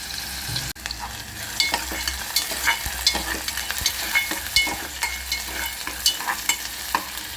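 Onion sizzles steadily in a hot pan while a spoon stirs it, with scraping strokes scattered through the close crackle of frying. No one speaks.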